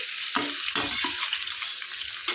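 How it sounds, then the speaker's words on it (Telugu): Ivy gourd (dondakaya) pieces frying in a pan, a steady close sizzle broken by a few louder bursts of stirring and scraping, with no one talking. "దొండకాయలు అయితే బాగా వేయించుకోవాలండి"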